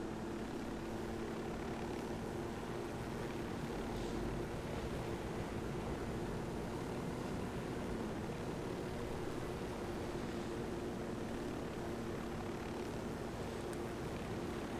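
Helicopter engine in the game Ghost Recon Wildlands, a steady low droning hum with a constant tonal whine, unbroken and moderately faint throughout.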